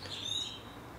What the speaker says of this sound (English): this blackbird is singing up a storm over there